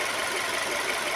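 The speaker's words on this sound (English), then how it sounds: "I like to keep the engine running for a couple of more minutes." VW Group car engine idling steadily after coolant system bleeding, a continuous even mid-pitched hum heard up close and alone, with no one talking.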